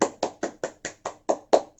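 An elementary school class claps in unison: eight sharp, evenly spaced claps in a steady rhythm, close by and clear, with no talking.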